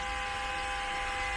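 A multimeter on continuity test gives a steady, unbroken electronic beep while checking for a short on an LCD television board, constant and alone for the whole moment.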